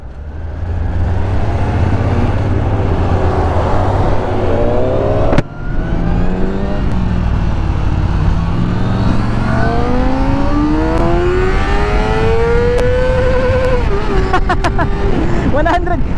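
A car pulls away and accelerates hard in first gear, its engine note climbing steadily over about sixteen seconds, with a brief dip around the midpoint before it keeps revving up, loud and close throughout.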